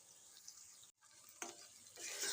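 Okra masala curry being stirred and fried in a pan, with a steady sizzle and scraping spoon strokes, a brief pause, then louder bursts of frying toward the end; no talk.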